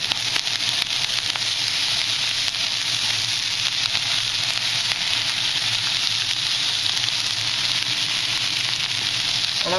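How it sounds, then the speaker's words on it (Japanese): Food stir-frying in a hot pan at home, a loud and steady close-up sizzle that holds without a break and has no voices over it. "ちょっと炒めていこうと思います"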